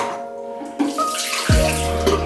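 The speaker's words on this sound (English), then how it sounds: "So just wash it through with some water." Water from a tap running to rinse color film during developing, a steady splashing gush that changes tone midway as the flow hits the tank.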